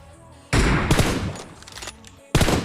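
Bursts of rapid automatic gunfire from PUBG Mobile payload mode, a loud volley near the start and another at the end, with lighter shots in between.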